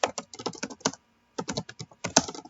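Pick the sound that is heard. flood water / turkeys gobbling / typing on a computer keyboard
typing on a computer keyboard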